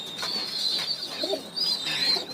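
Pigeons coo in soft, repeated calls close by, with a gentle chirpy bird call layered through, over a low steady background hum on a hot day.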